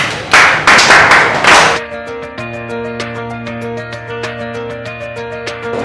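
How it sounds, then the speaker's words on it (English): Students in a classroom give a short round of applause for a classmate, a few loud sharp claps up close, followed by quieter tonal sounds and light taps. "Clap for him."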